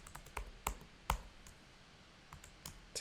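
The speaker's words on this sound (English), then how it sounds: "let's just type this into the calculator." Quick, light plastic clicks of calculator buttons being pressed, a few irregular taps spaced across the moment, close and quiet with no talking.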